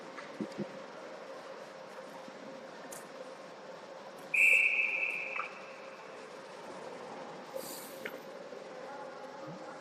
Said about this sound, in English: They'll cover that for a whistle.